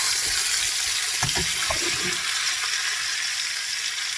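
Sugarcane juice poured into a hot frying pan while cooking crispy pork rinds with stir-fried instant noodles, a steady watery hiss and sizzle with a few soft clinks near the middle.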